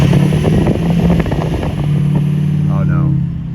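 A diesel truck with a new injector harness is driven gently, its engine rumbling loud and close with shifting revs and a brief rising whine near the end, speech likely mixed in.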